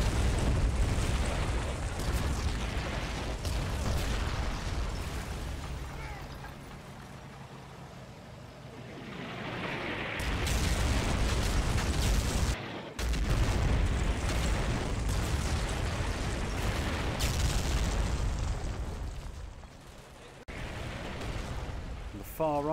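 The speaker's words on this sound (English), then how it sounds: "German artillery obliterates M Company mortars' last position." German artillery explosions in the Combat Mission Fortress Italy war game, a continuous roar of heavy booms and rumbling blasts that swells and fades, with a brief hiss and a sudden cut partway through.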